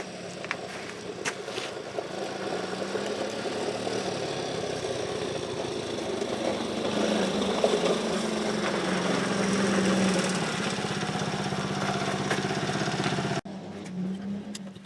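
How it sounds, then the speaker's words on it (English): A small quad bike engine drones and revs steadily at a moderate distance for most of the stretch, with a rough, buzzy tone that swells slightly midway before cutting off near the end. "I think my kid's enjoying that little quad."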